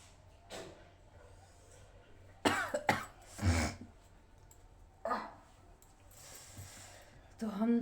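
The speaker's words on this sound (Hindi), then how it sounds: "हम छींकने की कोशिश कर रहे हैं। खांसी आ जाती है लेकिन छींक नहीं आती है" A person trying to sneeze coughs instead: a few sharp, close coughs and throat-clearing bursts separated by quiet pauses, with light talking in between.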